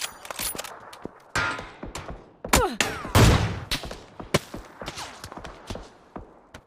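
PUBG gunfire crackles as a series of sharp, loud shots and bursts, irregularly spaced and close, with thuds and footsteps between them.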